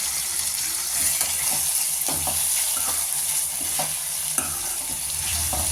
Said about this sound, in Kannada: ಸೊ ಆ 2 ಟೊಮೊಟೊನ ಅದರಲ್ಲಿ ಹಾಕಿ ಬಾಡಿಸ್ತೀನಿ